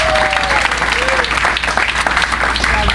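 Steady, loud applause from a crowd, dense clapping that fills the whole moment, with a few whistles riding on top.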